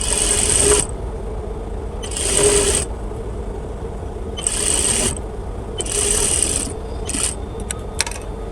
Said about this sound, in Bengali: এভাবে একটু নিচেরটা টান রেখে আস্তে আস্তে সেলাই দিতে হবে